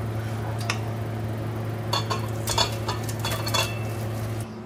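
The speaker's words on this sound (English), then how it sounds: "We'll go ahead and transfer this back into this pan or this bowl." Cooked ratatouille vegetables are moved into a pan or bowl with metal utensils: several clinks and scrapes of cutlery against cookware over a steady hum, with a busier cluster of clatter in the middle.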